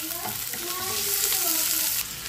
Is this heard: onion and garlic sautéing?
yes